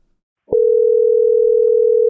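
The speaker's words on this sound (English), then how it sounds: "Hear the ring? It's ringing." A telephone tone on an outgoing call sounds after a click, a single steady continuous electronic tone held loud and close without a break, with no speech over it.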